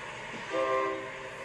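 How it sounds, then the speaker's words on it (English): A distant train horn sounds one short, steady blast over low rumbling rail noise at a road crossing. "how is the train going to freaking blow his horn?"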